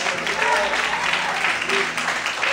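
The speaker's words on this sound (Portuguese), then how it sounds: "Bate palma e glorifica a Deus, aleluia." A church congregation claps hands together during a Pentecostal service, a dense steady patter of applause with voices mixed in throughout.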